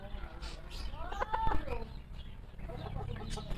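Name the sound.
backyard chickens clucking, Polish and mixed silkie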